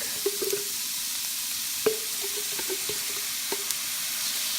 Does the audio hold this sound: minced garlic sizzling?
yes